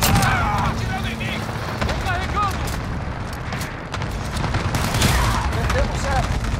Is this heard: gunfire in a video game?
yes